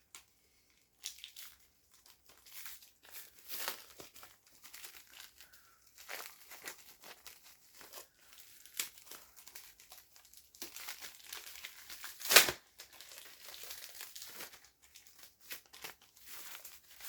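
Crinkly plastic packaging rustled and torn open at close range, in bursts of crumpling with one sharp rip partway through.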